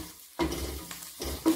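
Pork jowl bacon fries in a pan with steady sizzling, broken by a few short stirring scrapes and utensil knocks, close up with no talk.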